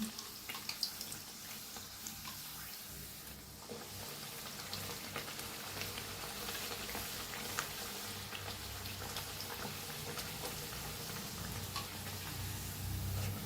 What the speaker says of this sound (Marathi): छान तळून घ्यायचं दोन्ही साईडला